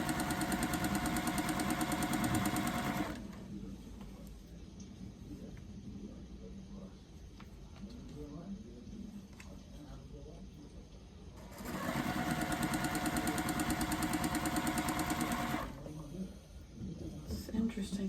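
A sewing machine stitching quilt pieces for a tulip quilt row runs in two steady, buzzing bursts of a few seconds each, with a quiet stretch of talking between them.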